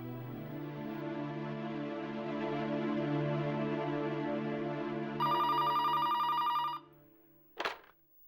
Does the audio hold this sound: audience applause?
no